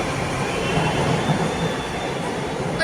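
A metro train pulls out of the station with a loud, steady rolling rumble and a thin high wheel whine, heard close from the platform.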